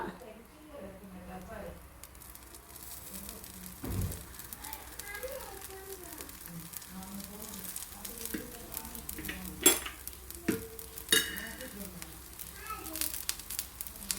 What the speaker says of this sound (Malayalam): ദോശ നല്ലതുപോലെ മുരിഞ്ഞ് വരുമ്പോൾ നമ്മൾ അതിൻ്റെ പുറത്തോട്ട് കുറച്ച് നെയ്യ് ഒഴിച്ച് കൊടുക്കുക